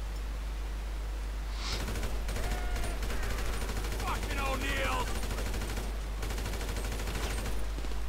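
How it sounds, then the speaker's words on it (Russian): Gunfire from building windows in GTA 5 Winter Edition, bursts of rapid automatic shots crackling over a constant low rumble, a player's voice breaking in briefly between volleys. "Вот они стреляют из окон"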